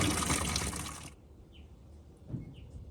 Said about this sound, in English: we'll let that drain